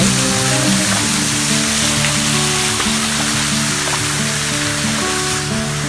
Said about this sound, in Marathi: जवळ जाऊन दाखवतो. तसं पाणी पडतं.